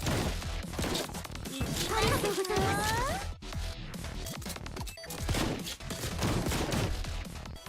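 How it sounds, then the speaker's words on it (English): A water cannon attack in the video game Blue Archive fires dense, crackling bursts that come in rapid volleys, loud and close over busy game sound effects and voices. "Water cannon, blammo."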